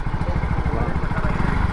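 Engines of two motorcycles in a parking area rumble and idle with a steady, throbbing low pulse, close and loud, with no pause.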